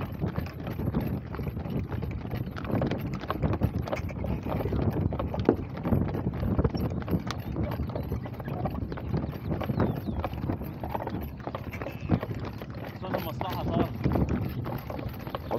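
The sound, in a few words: horse hooves clip-clopping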